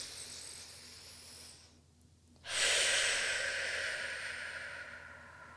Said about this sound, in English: So we'll start by taking 3 deep breaths.